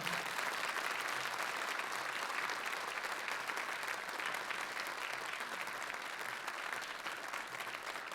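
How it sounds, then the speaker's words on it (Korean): A church congregation applauds to welcome a visiting pastor, continuous even clapping from many hands held at a constant level throughout, somewhat distant and with no talking. "우리 박수로 우리 목사님 환영하겠습니다"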